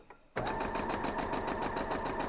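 Sewing machine stitching quilt block pieces for a gallery star quilt block, a steady rapid needle rattle that starts abruptly after a brief quiet moment and runs loud and continuous to the end.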